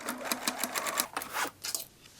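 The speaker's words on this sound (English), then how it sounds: "Press the seam open and sew a top stitch on the right side." A sewing machine runs a top stitch along a pressed seam on denim from old jeans being made into a handbag, with short rapid bursts of stitching that stop and start, close and alone.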